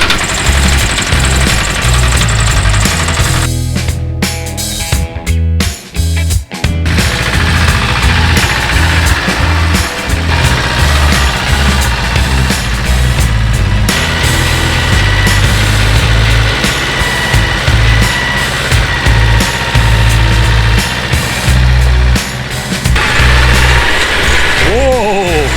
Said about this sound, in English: So let's go fire up the tractor